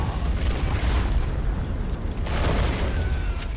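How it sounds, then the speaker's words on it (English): Artillery blasts rumble through a battle in the video game Army Men of War, a continuous dense low boom with heavier bursts rising in the middle and again near the end, loud and without talk. "Still getting hit quite hard with artillery"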